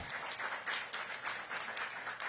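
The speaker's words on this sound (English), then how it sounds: "Let's give Daryl Gaston a big round of applause." Applause from an audience at an outdoor kickoff event for DMV Black Restaurant Week, fairly faint and distant, with clustered bursts of clapping pulsing unevenly.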